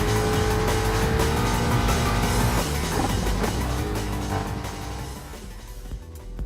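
Four-wheel-drive off-road rally cars of over 500 horsepower, such as a Subaru WRX, Lancer Evolution, Ford Focus and Ford Mustang, racing in Gran Turismo Sport: a loud, continuous roar of revving engines, with tire noise and a slight fade near the end.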